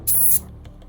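Yellow paint hissing in one short sharp blast from a spray can with its nozzle removed, aimed at the shoulder pads of a 3D-printed Judge Dredd bust, followed by faint handling noises.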